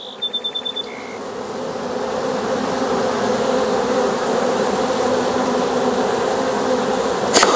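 Honey bees swarm around the entrance of a crowded hive, making a dense, steady buzzing drone that holds at an even level throughout, with a few brief high chirps near the start.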